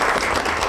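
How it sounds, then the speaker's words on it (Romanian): Studio audience applauding steadily at a Moldovan celebrity television show, a dense continuous wash of clapping with no pauses, loud and close throughout this short stretch. "Dar voi aplaudați."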